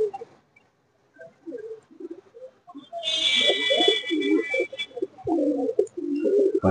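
Malwai pigeons at a sale coo repeatedly in low, throaty bursts close by, with faint fluttering and a brief higher rustling noise partway through.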